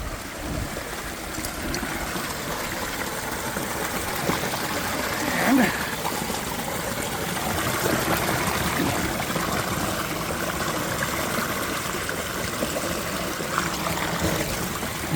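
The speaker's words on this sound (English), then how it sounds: "Here is a waterfall right here." A waterfall along the Pacific Crest Trail makes a steady broadband rush of falling water, close and continuous, with no breaks and no talking.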